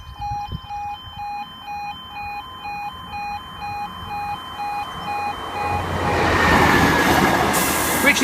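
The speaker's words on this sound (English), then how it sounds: "The next train at platform 1 does not stop here." Train passing through Hykeham station platform as the station announcement chimes repeat, the rumble and hiss of wheels swelling loudly in the final seconds, with a high squeal near the end.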